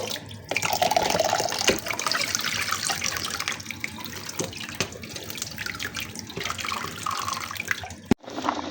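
Running water from a tap splashes steadily as freshwater algae is rinsed for a home-style Lao algae larb, a continuous close washing sound with no talk.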